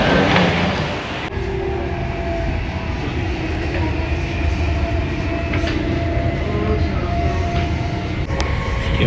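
A train to Naples, Italy, rumbles loudly and steadily from inside a carriage, with a continuous low roar and faint rhythmic clatter of wheels on track.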